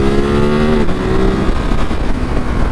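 A Ducati Monster 937 motorcycle accelerates hard through its gears, the loud, near engine climbing in pitch, dropping briefly at the gear change, then pulling again with a gritty roar and wind rush.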